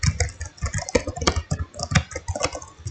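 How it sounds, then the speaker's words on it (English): Typing on the built-in keyboard of a Gigabyte Aorus 15G RTX 3060 laptop, picked up by its own inbuilt mic: a quick, steady run of close, crisp key clacks with no voices. "it might sound a bit weird like while I'm typing, but yeah, this is how it sounds"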